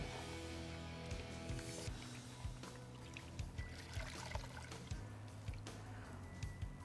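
Foam motorcycle air filter being washed by hand with dish soap in a tub of warm water, steady sloshing and squeezing with repeated soft splashes, close and continuous, no voices.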